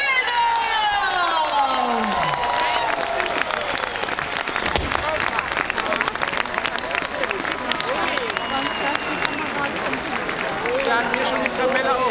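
A large concert crowd in Cologne cheers and applauds a band at the 2012 Arsch huh event, a dense, steady roar of clapping and shouting voices that fills the whole stretch.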